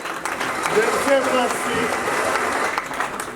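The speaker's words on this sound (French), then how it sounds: "Est-ce que vous pouvez applaudir, s'il vous 50 plaît?" Steady applause from a church audience at a pastor's anniversary celebration, with scattered voices and cheers mixed in, holding at an even level throughout.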